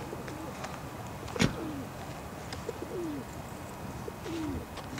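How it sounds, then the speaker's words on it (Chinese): Pigeons coo beside a small lake in Golden Gate Park, San Francisco, several soft rolling calls spaced a second or so apart, with a brief louder knock and light background bird chirps. "然后这个湖边呢有很多小鸽子。"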